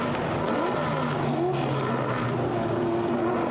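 Race cars at Spa on a wet track, pulling out of La Source and heading down to the grid, with several engines droning and rising in pitch at a moderate distance over steady wet road hiss.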